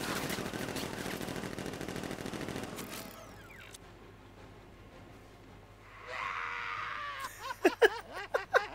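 Guards open fire in Batman: Arkham Knight with a dense rattle of automatic gunfire that cuts off abruptly, followed by a quieter stretch and then a few sharp, loud bursts near the end.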